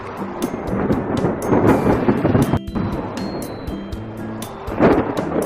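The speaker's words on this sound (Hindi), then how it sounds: "उनके लिए पहली बारिश थी जो उन्हें किसी अजूबे से कम नहीं लग रही थी" Steady heavy rainfall with a continuous hiss and low rumbling, like a downpour during a storm, with occasional sharper spatters.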